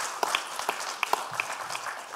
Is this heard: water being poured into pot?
no